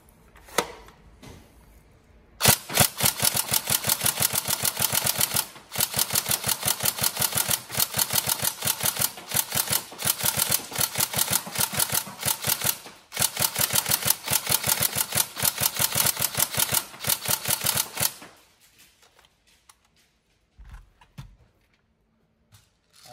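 An upgraded Tokyo Marui SCAR-L NGRS airsoft rifle fires rapid, evenly spaced shots in three long strings with brief pauses between them. The firing is loud and close, with no talk, and ends in near silence.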